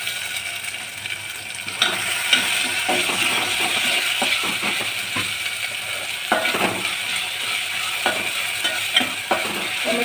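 Masala, potato and tomato fry and sizzle in a pan with a constant hiss while a spoon stirs and scrapes in intermittent clinks, close and steady throughout.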